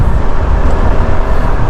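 Cars passing along Central Avenue on a drizzly day, a loud, steady roadway rumble with tire and engine noise close by and no talking.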